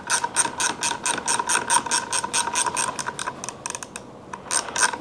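A ratcheting box wrench turns a nut while a brake or clutch lever is installed on a 2023 Honda Grom, producing quick, close, regular clicks in runs with a brief slower stretch before resuming.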